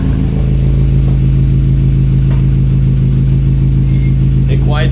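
A car exhaust fitted with only a resonator, no muffler, holds a steady deep droning idle with a low hum throughout and a brief rising rev near the end.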